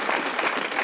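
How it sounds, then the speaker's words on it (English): A brief burst of audience applause at a community meeting, dense, even clapping from a group lasting under a second. "I don't deserve applause"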